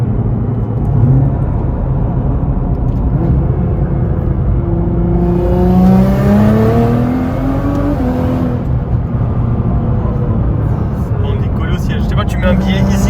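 A 750 hp Nissan GT-R running on ethanol accelerates hard: a loud, close engine roar climbs in pitch mid-clip, under constant talk.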